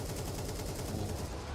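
Rapid gunfire in a Counter-Strike 2 match, a dense stream of quick shots crackling at a fairly steady rhythm, moderately loud with no voice over it.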